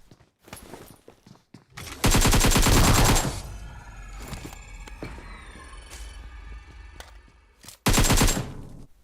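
Bursts of S12K shotgun fire in the PUBG Mobile battle game, two loud rapid volleys of booming shots with scattered quieter shots and movement sounds between them.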